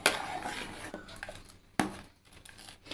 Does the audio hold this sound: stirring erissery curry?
yes